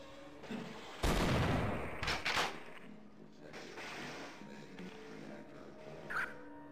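A Gauss gun fires in Half-Life: Source: a loud crackling energy blast at about one second and a second burst soon after, then a softer hum. Someone talks quietly under it.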